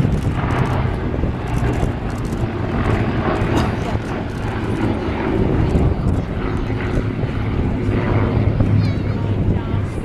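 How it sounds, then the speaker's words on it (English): A formation of 1930s fighter aircraft passes over an airshow, their piston engines making a continuous loud drone throughout, with crowd chatter and a commentator's voice beneath it. "running in from the left, ladies and gentlemen. A 1930s fighter formation."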